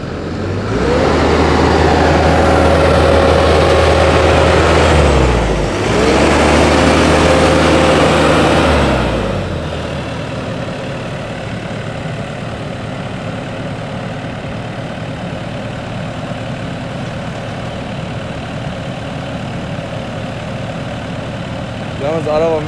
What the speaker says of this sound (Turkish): Yalnız araba müthiş bir şekilde dampere kalkıyor